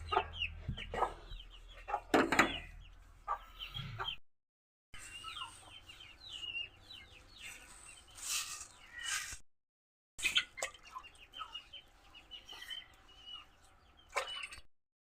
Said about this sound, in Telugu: కోళ్ళు చూడండి ఇక్కడ ఉల్లిపాయ ముక్కలు ఉంటాయి కదా అవి తినడానికి వచ్చి